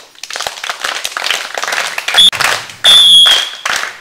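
School audience clapping in gratitude during a clothes distribution, continuous applause with a few sharp electronic squeals and sudden louder bursts near the end.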